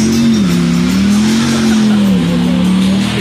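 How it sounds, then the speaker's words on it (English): A 1970 Plymouth Cuda with a 440 Six Pack engine and five-speed does a burnout, its loud, steady engine roar wavering in pitch with screeching tires, close by and continuous throughout with no talk. "Burnouts. Here we go."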